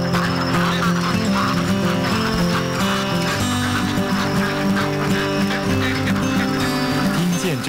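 A crowd of ducks jostles for a snack at the edge of a village pond, quacking and honking in a loud, dense chorus that carries on through the whole stretch, close up with no voices over it.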